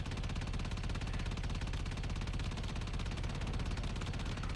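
Warframe gunfire rattles as a dense, rapid, unbroken stream of automatic shots at a steady, fairly quiet level.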